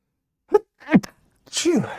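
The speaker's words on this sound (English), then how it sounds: "So I'm going to sneeze." A short sneeze sequence: a couple of quick intake gasps followed by a sharp, breathy burst, close to the listener.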